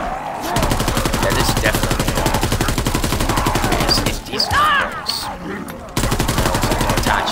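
Rapid, steady automatic fire from a GDB 79 assault rifle in a WWII shooter game, loud and close, broken by a short pause before resuming, with someone briefly talking over it.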